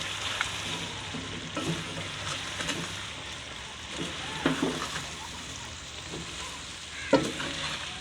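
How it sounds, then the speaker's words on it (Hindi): Okra frying in a pan and being stirred with a spoon, giving a steady low sizzle with occasional scraping and clinking strokes of the spoon against the pan, fairly close and quiet. "देखें ये जी भिंडियाँ डाल चुके हैं। तो इसको चम्मच मारेंगे।"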